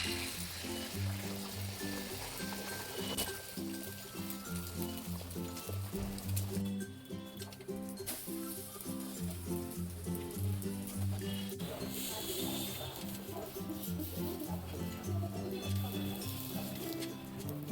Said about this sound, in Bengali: এবার ডিমটা ভেজে নেব অল্প পরিমাণ তেল দিয়ে মিডিয়াম স্টিমে।